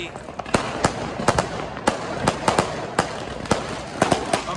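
A 50-50 shot Diwali firework fires outdoors, producing a steady run of sharp, loud cracking bangs about every third of a second, with a continuous crackling wash between them and voices talking underneath.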